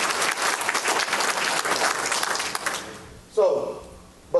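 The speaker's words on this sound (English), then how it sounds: "Yeah, clap away." Audience at a business talk clapping, steady dense applause for about three seconds that then fades out, followed by a speaker's voice.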